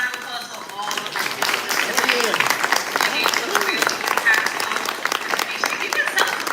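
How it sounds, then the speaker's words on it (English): Audience at a round-table event on domestic violence applauds in a steady round of clapping throughout, with a few voices mixed in. "Can we just get a round of applause for all of the"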